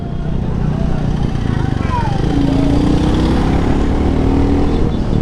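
Royal Enfield motorcycle with a loud stock exhaust, a continuous low thumping engine rumble while riding, with faint wavering tones over it.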